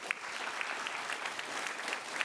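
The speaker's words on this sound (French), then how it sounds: "On les applaudit tous bien fort." Steady applause fills a conference hall as the audience claps for the speakers of a round table on climate risks. The sustained, dense clapping runs evenly throughout without any talk.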